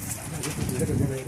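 Pigeon cooing, a low soft throaty coo heard close in a short burst, with a voice talking over it.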